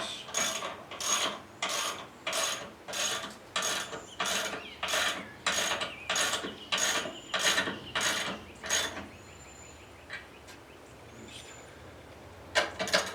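A ratchet socket wrench clicks in a steady series of about fifteen quick strokes while tightening steering parts on a 1970 Oldsmobile Cutlass Supreme, close and crisp, then stops with a few faint scrapes and taps after.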